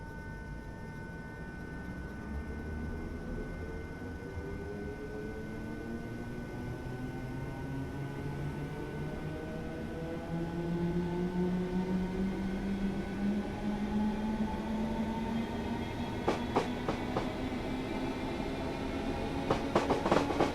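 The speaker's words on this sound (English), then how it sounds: "a demonstration of what the Class 456 sounds like when she pulls away from a station" A Class 455-series electric unit, the Class 456 in Train Simulator, pulls away from a station: traction motor whine climbs steadily in pitch over a low rumble, growing louder, with sharp clicks near the end.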